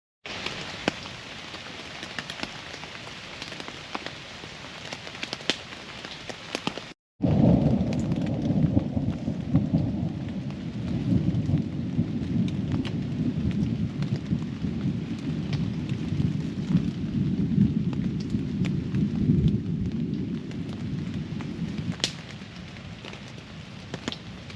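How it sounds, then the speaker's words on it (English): Heavy thunderstorm at night over a tent pitched for stealth camping in a city: steady loud rain roars throughout, with a deep thunder rumble swelling after the first seven seconds and rolling on beneath the downpour. "Freaking storming like crazy out there"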